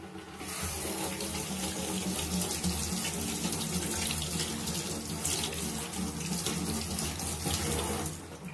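Hands are rinsed under a running tap, the water pouring in a steady, close hiss into a sink that starts and stops cleanly.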